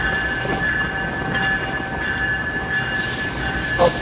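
A GO Transit commuter train on the Toronto to Niagara Falls route, its steady rumble and rail noise filling the platform at close range, with a faint tonal whine running throughout and a brief louder bump near the end.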